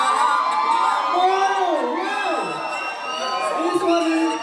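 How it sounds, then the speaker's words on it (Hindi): Wedding sangeet night crowd in Bilaspur, Chhattisgarh, cheering and shouting as performers are welcomed, with whoops and excited children's voices rising and falling steadily throughout, close and loud, mixed with indistinct chatter. "जोरदार तालियों से स्वागत करिए।"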